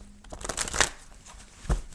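Rider-Waite tarot cards, decades old, shuffled by hand in a quick riffle of papery flicks, with a sharper tap near the end, close and moderately loud.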